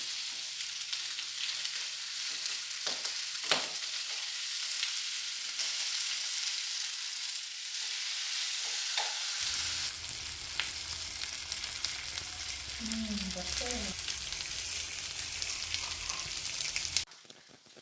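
Goan-style pork chops frying in a pan, a continuous close sizzle that swells louder partway through as the chops are turned, then cuts off near the end.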